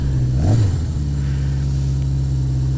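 A 1980 Yamaha XS 1100 Special motorcycle engine idling close up with by-ear synchronized carburetors, a brief blip of revs early on before settling into a smooth, steady, loud idle.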